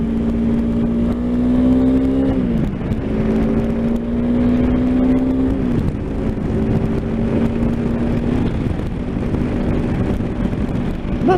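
A Honda CRF300 Rally motorcycle engine revving hard in third gear near the rev limiter, a loud steady buzzing engine tone that climbs, dips at gear changes and climbs again, recorded up close while riding.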